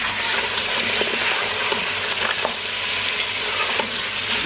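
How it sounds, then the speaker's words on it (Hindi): Beef and spices frying in a pot with a splash of water for nihari, a loud, steady close-up sizzle with occasional stirring scrapes and bubbling, heard alone without talk. "इसको अच्छी तरह हम फ्राई कर रहे हैं, साथ साथ मसाले भून रहे हैं हमारे।"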